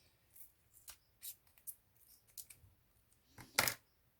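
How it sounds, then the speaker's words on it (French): Scissors cut a strip of paper into pieces for a scrapbooking card, a series of quiet, crisp snips spaced irregularly, with a louder double snip near the end. "On va couper ça en plusieurs morceaux."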